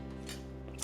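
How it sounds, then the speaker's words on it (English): Knife slicing through an orange in one short close cut, a few soft crisp snips over a quiet background hum. "And then I'm just going to cut it in half"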